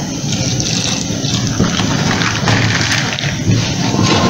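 Cool water pours and sloshes into a container holding ground sweet potato peel, a close, continuous splashing stream running without pause.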